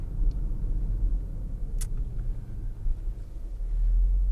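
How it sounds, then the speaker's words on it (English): A 2018 Porsche Panamera Sport Turismo engine with its sport exhaust switched on gives a steady, deep low rumble from inside the cabin, swelling louder toward the end. "Sport exhaust, let's put that on."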